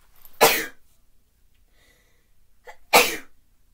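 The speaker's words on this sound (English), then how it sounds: "My hay fever's been kicking in really badly, so bear with me if I keep sneezing." A person with hay fever sneezes twice, each a sharp, loud, close burst about two and a half seconds apart, with quiet breathing between.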